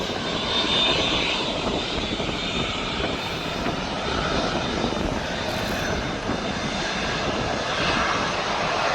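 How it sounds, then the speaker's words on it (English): Boeing Dreamliner jet at Birmingham International Airport, a steady broadband engine roar that stays loud and constant throughout, with no talk. "We have got another Dreamliner that's just coming up the side of us."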